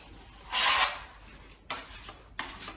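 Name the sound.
blade smoothing plaster filler on a damaged wall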